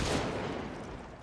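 A single loud gunshot in Project Zomboid, a sharp crack that decays into a broad, noisy reverberant tail lasting about a second, with no speech.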